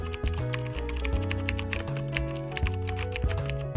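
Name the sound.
typing on a computer keyboard while coding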